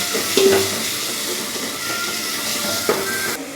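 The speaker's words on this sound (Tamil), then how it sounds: "அதையும் போட்டு எண்ணெயிலே போட்டு நல்லா வணக்கி வச்சுக்கணும்." Ground tomato paste sizzles in hot oil in a pan for a pond fish curry, a steady hissing fry that runs the whole time with a few brief louder spits.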